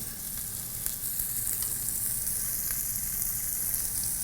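Braciole searing in a very hot pan give off a steady, dense sizzle that stays loud and even throughout, with no voices.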